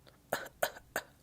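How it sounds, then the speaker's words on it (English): A patient gives three short coughs in a quick, even series during a medical check-up, soft and close with faint room hiss between them. "give me a good cough"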